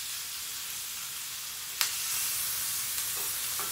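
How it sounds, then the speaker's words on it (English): Turkey wings browning in a hot pan give a steady bright sizzle, with one sharp clack as a wing is flipped and a couple of softer knocks later, close and alone. "my meat is starting to brown up pretty good. I'm going to go ahead and flip these wings over a little again."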